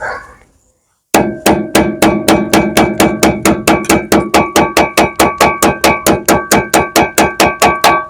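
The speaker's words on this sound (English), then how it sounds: "lift that a bit, that's in, give it a little tap" A metal hammer strikes steadily while a front shock absorber on a Cadillac SRX is tapped into place, about two dozen sharp, ringing blows in a fast even rhythm, loud and close, after a brief quiet start.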